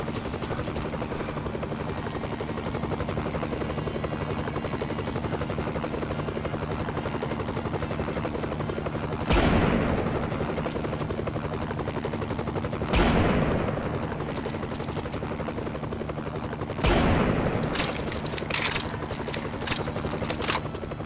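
Helicopter in the Family Guy Back to the Multiverse video game, a steady loud rotor drone running throughout, cut by several sharp bursts of gunfire-like impacts near the end, with no talking.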